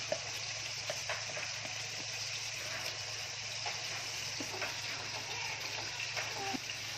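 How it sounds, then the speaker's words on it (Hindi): Masala with homemade cream frying in a pan for Changezi chicken curry, giving a steady, quiet sizzle with soft bubbling that runs throughout. "अपना मलाई डाल के भी दोबारा मैं इसे भून रही हूँ"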